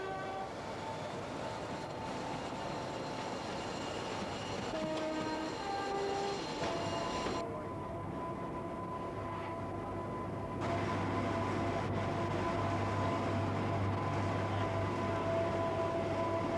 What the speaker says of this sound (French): il faut une vingtaine de minutes au petit train rouge pour gravir la pente boisée jusqu'à la station du Mont-en-Vert